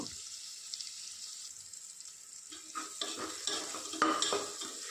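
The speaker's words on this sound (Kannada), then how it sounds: "ಹಾಕಿ ಮಲ್ತಿದ್ದು ಫ್ರೈ ಮಾಡ್ತೀವಿ ಅದಕ್ಕೆ ಬಟಾಟೆ ಆ್ಯಡ್ ಮಾಡ್ತೀವಿ" Onion and tomato fry in a pan with a faint, steady sizzle, joined partway through by soft stirring scrapes and light clinks from the cookware.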